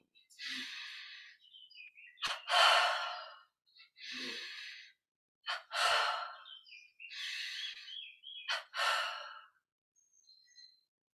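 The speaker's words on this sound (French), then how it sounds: "Double respiration avec les coudes ensemble." Breath work from a Yogoda self-healing exercise session, done with the elbows together: six strong, breathy sighs and exhalations come in uneven bursts, close and clear, each separated by a short silence.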